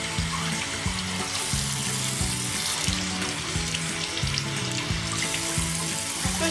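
Running water from a tap splashes steadily into a bath while a skinny pig is washed, close and continuous with a regular low pulsing underneath.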